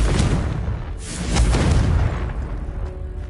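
Confringo fire spell blasts in Hogwarts Legacy, a loud booming explosion with rolling low rumble and repeated heavy impacts throughout, no voices.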